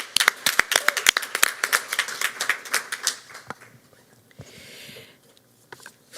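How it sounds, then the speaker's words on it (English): Audience at a Baltimore City Public Schools board meeting gives a round of applause for students, sharp distinct claps that thin out and fade to scattered last hits and quiet. "Let's have another round of applause for those students."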